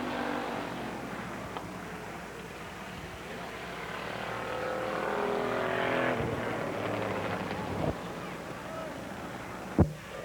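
Challenger feature race cars at Holland Speedway coming through turns 3 and 4 on the final lap, a rising engine roar that swells and passes at moderate distance, with a few sharp knocks near the end.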